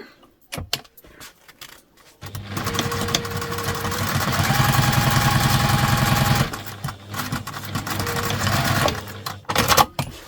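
A sewing machine stitches the seam of a fabric shoe bag, running steadily and loudly for about four seconds, with rattles and clicks from handling the fabric before and after.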